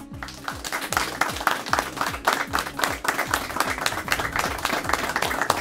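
An audience applauding to welcome a quiz team into a game show arena, dense continuous clapping from many hands, loud and sustained throughout with no speech.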